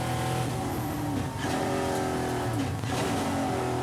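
A EuroNASCAR 5.7-litre V8 race car accelerates on track at the Czech Republic round, heard onboard as a loud, dense engine roar climbing through the gears with brief dips at the shifts.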